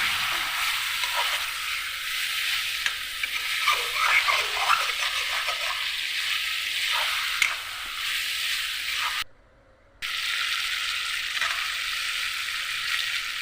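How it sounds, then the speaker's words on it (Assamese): A dish frying in a home kitchen pan is stirred after a splash of water goes in, a soft steady sizzle with scraping strokes, quiet and continuous apart from a brief dropout. "অকণমান পানী দিছে, আকৌ ভালদৰে লৰাই দিছে।"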